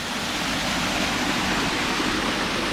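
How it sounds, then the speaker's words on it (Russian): A small waterfall fed by a pipe pours in a Japanese garden, giving a steady, close rushing splash of water that stays even and loud throughout. "здесь тоже такой водопадик"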